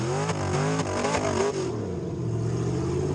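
A 4x4 truck called Lone Wolf revs its engine hard during an off-road challenge attempt, the pitch rising and falling in repeated surges before settling into a steadier, rougher drone; loud and close, with no talk.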